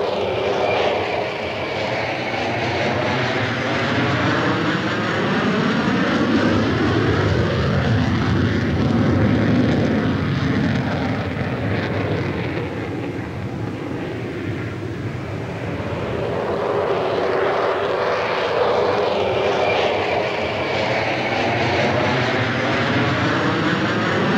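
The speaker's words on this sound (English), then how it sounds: "Anybody familiar with early jets will recognise this aircraft, the de Havilland Vampire that served as a jet trainer with the Royal Australian Air Force." A de Havilland Vampire jet trainer flies past at an airshow, its engine a loud, steady roar that swells and fades slightly over the run, with no voices.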